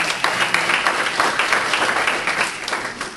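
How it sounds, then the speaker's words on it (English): Audience at a small business expo workshop applauds a winner, a short burst of lively clapping from a modest crowd that swells and then begins to fade. "a big round of applause for him"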